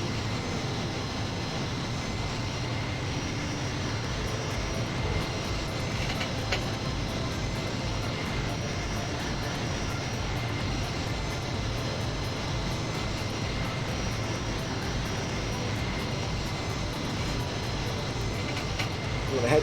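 Steady, continuous jet engine roar of a C-17 Globemaster in Microsoft Flight Simulator, a broad even drone holding at constant loudness throughout with no break.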